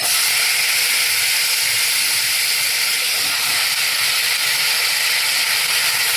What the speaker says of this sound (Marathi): आणि लगेच फ्लावर घालायचा आहे त्याच्यात.